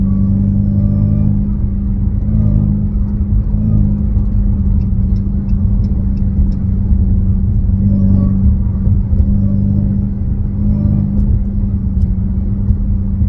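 Deep, loud, steady exhaust rumble from a Dodge Hellcat fitted with a Legmaker exhaust and a JLT intake, the engine droning through gears with slight swells in pitch.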